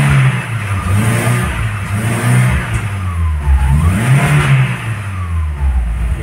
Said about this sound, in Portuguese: Olha a reação do carro, o barulho, como é que mudou, ó.